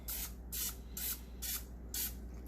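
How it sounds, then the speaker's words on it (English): Four short, crisp hissing sprays of an olive oil mister into a Lodge cast-iron Dutch oven, evenly spaced about half a second apart, close up with a low hum beneath. "I'm just going to hit it with a little bit of spray of olive oil."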